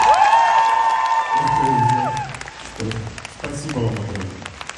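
Concert audience at a solo show in a Moscow theatre claps and cheers loudly, with a held sung note over the start and someone speaking over the fading applause.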